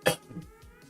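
A person ill for days lets out a single short, rough cough, followed by a faint breathy rasp.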